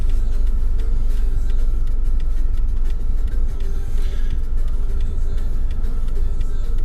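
A car drives through the streets of Paramaribo, Suriname, giving a steady, loud interior road and engine rumble with faint ticking and traffic noise above it.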